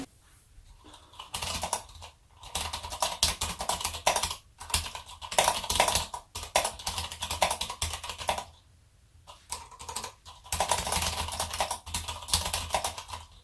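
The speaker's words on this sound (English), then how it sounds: "satisfying click of a fully depressed Cherry MX switch" Clicky mechanical keyboard with Cherry MX switches, a WhiteFox by Kono, clatters in fast, continuous bursts of typing, close and crisp, with brief pauses between runs.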